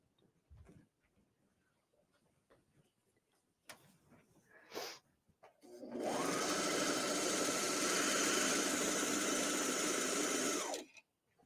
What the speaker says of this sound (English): All right, back to the serger.